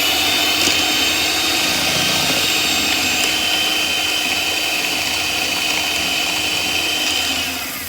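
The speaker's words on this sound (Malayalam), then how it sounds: "നമുക്കിതൊന്ന് ബീറ്റ് ചെയ്ത് കൊടുക്കാം." An electric hand mixer beats vanilla sponge cupcake batter, a loud steady motor whir running without pause for the whole stretch before easing off slightly at the end, with no talking over it.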